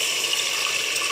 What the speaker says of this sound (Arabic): نديروا لها شويه ماء